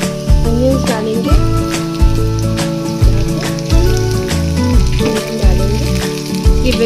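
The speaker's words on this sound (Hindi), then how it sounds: "थोड़ा सा इसको फ्राई करना है" Potatoes and onions frying in a pan for veg Maggi, a steady close sizzle under loud music with a speaking voice, and occasional stirring clatter.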